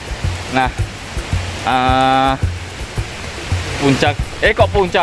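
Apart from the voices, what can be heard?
Ngleyangan waterfall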